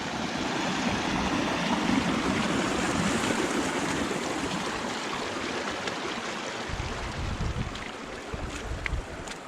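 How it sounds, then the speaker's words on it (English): Feet wading through the shallow water of Pleasant Creek in Capitol Reef, a steady broadband rush of splashing and flowing water with wind buffeting the microphone, continuous and close, heaviest near the end. "I said we're just going to walk through the water most of the part."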